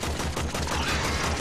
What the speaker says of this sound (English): This gun I'm using is like the very first gun you get.